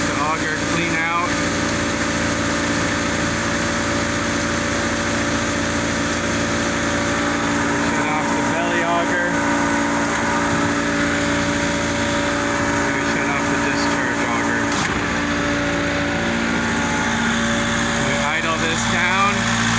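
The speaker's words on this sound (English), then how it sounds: "Let the auger clean out." A fertilizer spreader's auger runs steadily as it clears out the last product during fall fertilizing, a loud continuous engine-and-machinery drone with harmonic hum lasting throughout, with no talk over it.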